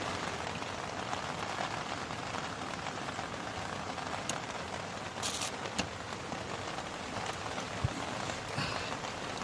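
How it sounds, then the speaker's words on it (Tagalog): Steady rain falls outdoors at night during repair work on a 2018 Montero Sport with an automatic transmission stuck in park, a dense continuous hiss with scattered louder drops and no talk. "Maulan, pasensya na."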